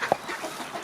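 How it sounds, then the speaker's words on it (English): A large waterfowl, among swans at a winter feeding spot, gives a single short squawk as it is picked up, followed by faint rustling. "The bird made a noise, started flapping its wings"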